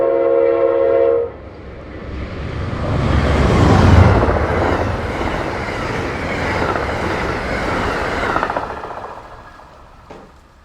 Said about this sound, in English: A minute later, 43 passes the station with 145 on the point.